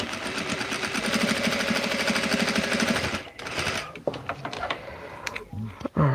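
A sewing machine stitches a baby gift in a fast, close, rattling run for about three seconds, then slows into a few short stop-start bursts with fabric handling and clicks.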